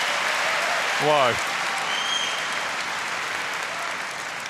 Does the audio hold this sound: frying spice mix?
no